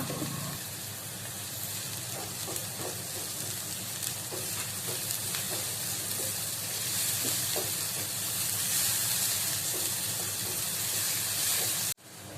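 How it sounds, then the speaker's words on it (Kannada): Onions with salt fry in a pan, giving a continuous crackling sizzle with scattered pops and soft stirring, steady and close throughout. "ಉಪ್ಪು ಆ್ಯಡ್ ಮಲ್ಪಲೆ ನೀರುಳ್ಳಿ ಬೇಗ ಫ್ರೈ ಹಾಕೊಂಡು"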